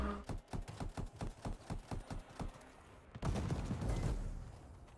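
Rapid gunfire in the shooter game Anthem on PS4 Pro: a steady run of about a dozen evenly spaced shots, followed by a louder, dense burst of blasts and explosions, with no talking.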